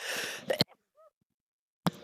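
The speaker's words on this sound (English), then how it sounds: "Oh, sneeze." A single sharp sneeze bursts out at the start over an online voice chat during a Final Fantasy raid session, followed by a brief breathy sound, a long quiet gap and another short vocal noise at the end.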